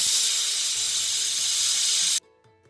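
A pressure cooker whistle blasts a loud, sustained hiss of escaping steam while chole cooks, then cuts off abruptly into quiet kitchen background.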